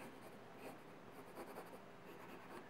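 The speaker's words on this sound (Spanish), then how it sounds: "voy dibujando los músculos directamente." A pencil sketches muscles on paper in a steady, soft scratching of graphite strokes, close and continuous with no talking.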